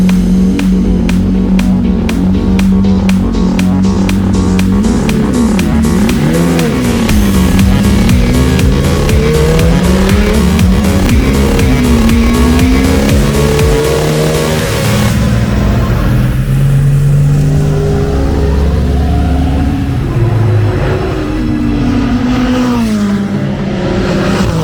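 GT endurance race cars roar around Le Castellet circuit during a UCS round, engines loud and continuous with revving pitch sweeps and cars passing close by, no voices.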